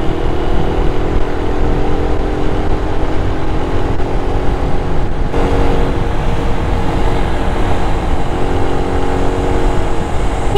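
A motorcycle ride along a road near Pililla on the way to a beach and falls, with a loud, continuous roar of engine and wind rushing past that never lets up.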